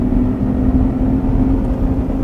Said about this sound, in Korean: 이렇게 달리다가도 가속 페달을 조금만 이렇게 깊게 밟으면